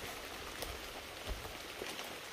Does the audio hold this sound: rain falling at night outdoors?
yes